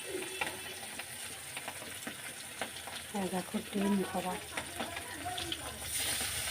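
Small hilsa fish sizzle in hot oil in a kadai, a steady close frying hiss with some stirring, while someone talks over it.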